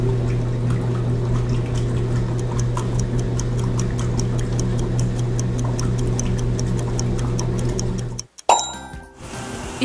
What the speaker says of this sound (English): It's a washing machine.